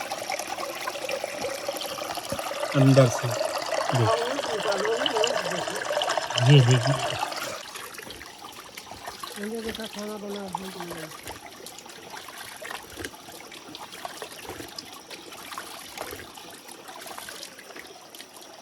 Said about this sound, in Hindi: देखिए पत्थर के नीचे से कैसे पानी निकल रहा है